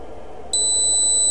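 A low-battery buzzer on an STM32 drone flight controller board switches on mid-clip with a loud steady electronic tone. It holds continuously after a quiet lead-in.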